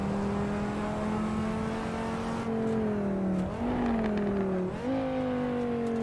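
Assetto Corsa V10 race car engine screams up through the revs, with two sharp upshifts that drop the pitch before it climbs again, loud and close the whole time.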